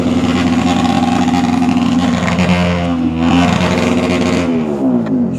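A Bajaj Pulsar NS200 motorcycle with a loud aftermarket exhaust blats and revs close by, its throaty note rising and falling before dropping off at the end.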